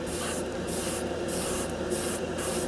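Harbor Freight $20 dual action airbrush spraying primer, a steady continuous airy hiss at close range with brief rhythmic dips as the trigger is eased, no talking.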